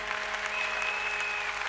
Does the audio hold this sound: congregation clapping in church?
yes